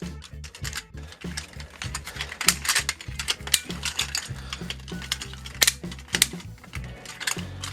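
Plastic parts of a Miniforce Super Cops Storm Chaser transforming toy robot click, snap and slide into place in a rapid, uneven series of close ratcheting clicks with no talking.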